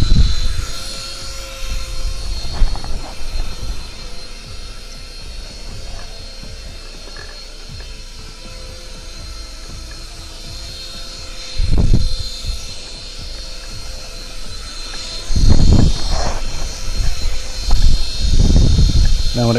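An Air Hogs Helix 360 four-channel RC toy helicopter flies with a steady high-pitched rotor and motor whine, close by and continuous, with brief louder surges and clattering bursts toward the end.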